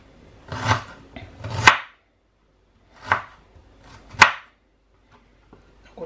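A knife chops through fresh ginger root on a board, four distinct crisp cuts in uneven rhythm with brief quiet gaps between, close and clear with no talking.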